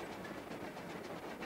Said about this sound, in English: a magnificent model steam engine puffed past them